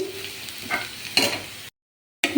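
Onion and whole cumin seeds fry together in a pan, a close sizzle broken by a couple of stirring scrapes before the sound cuts out briefly and returns.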